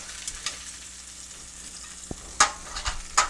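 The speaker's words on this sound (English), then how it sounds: "Got some of that sizzle still going on the bottom." Chicken for orange chicken sizzles in hot oil with a steady crackling hiss, broken by a few sharp pops and clatters near the end.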